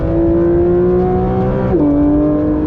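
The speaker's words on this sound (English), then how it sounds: "The 4-liter flat 6" A Porsche 911 GT3 RS 4-liter flat-six engine holds a steady high drone, close and loud, then the pitch drops abruptly as it shifts gear and keeps pulling.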